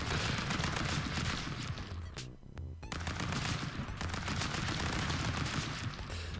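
Rapid, loud bursts of gunfire ring out in Stick Fight: The Game, dense fusillades with a brief pause midway before the shooting resumes.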